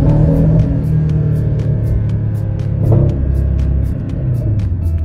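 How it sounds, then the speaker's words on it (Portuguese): A Porsche Boxster convertible's engine revving with the sport exhaust in its most aggressive mode, a loud, close, continuous deep rumble that swells briefly near the middle, no talking. "Ó a diferença de escape, ó, ó. Tá ouvindo? Esse aqui é o modo assassino."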